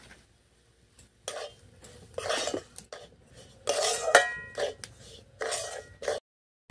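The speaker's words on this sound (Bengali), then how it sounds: "সুজি প্যাকেটটা কেটে নিয়েছি, দিয়ে দিচ্ছি ঘির মধ্যে। ভালো করে একটু ভেজে নেব লাল লাল করে।" Semolina is fried in ghee in a metal pan, with a spoon scraping and stirring in several short, close bursts separated by brief quiet pauses.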